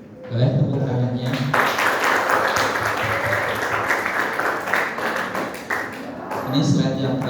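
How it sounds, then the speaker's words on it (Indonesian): Teachers applaud at the close of a school training presentation; after a brief spoken line, sustained clapping swells and holds for several seconds, then speech resumes near the end. "Boleh tepuk tangannya."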